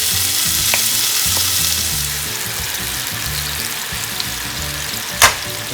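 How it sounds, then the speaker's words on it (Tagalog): Chicken sizzles steadily as it fries in a pan, a dense continuous crackle with occasional stirring scrapes and a sharp clink near the end, with no talking. "So, umpisahon na po natin ipirito."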